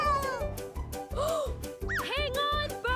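Cartoon cat meows loudly in short bursts over busy festive music with jingling percussion, the cries rising and falling in pitch.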